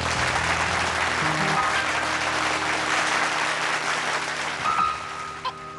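A studio audience claps and applauds to welcome a singer onto a variety show stage; dense, continuous clapping holds steady for several seconds, with music underneath, then tapers near the end.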